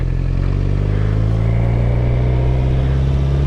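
Motorcycle ridden by a new rider through a left turn while speeding up, a loud close engine drone holding steady with a faint clatter, no talking.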